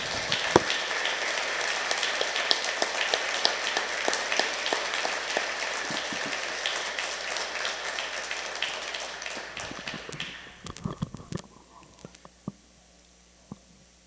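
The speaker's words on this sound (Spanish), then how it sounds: "Un fuerte aplauso" A church congregation applauds in a sustained wash of many hands, steady and moderately distant, thinning into scattered isolated claps toward the end.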